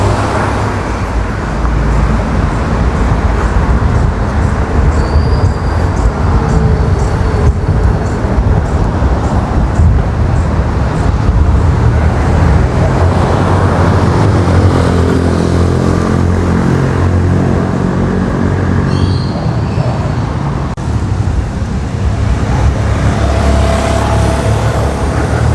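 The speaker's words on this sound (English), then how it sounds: "The traffic on my left-hand side is the traffic coming south from Mexico" Steady street traffic on Miramontes in Mexico City on a quiet Sunday morning, cars passing nearby in a continuous loud roar with engine rumble swelling and fading.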